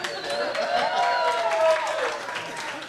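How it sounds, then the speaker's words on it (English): Comedy club audience at Gwins Lodge applauding a joke, a steady wash of clapping held for about three seconds with a few voices mixed in. "That's sad that we just applauded that."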